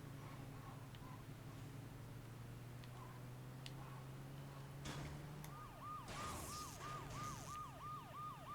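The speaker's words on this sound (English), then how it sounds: "Come on, ambulance, you couldn't have anywhere more important to go than what I'm doing." An ambulance siren in the video game Saints Row 2 wails, sweeping up and down repeatedly, moderately distant, over low freeway traffic rumble and a steady engine hum.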